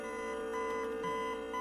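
A steady, ringing electronic alarm tone with a small jingle layered on top loops evenly in the horror video game One Night at Springtrap's, heard alone with no voices.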